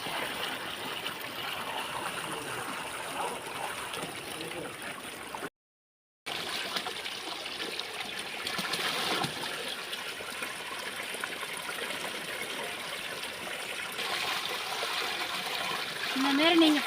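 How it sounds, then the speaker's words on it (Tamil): Water from a motor-fed tap runs steadily while fish are rinsed clean, a continuous close trickling and splashing with a brief dropout midway. "நான் எப்படி மோட்டரில் ஃப்ரெஷ்ஷாக தண்ணி ஓடிட்டு அலசிட்டு இருக்கேன்"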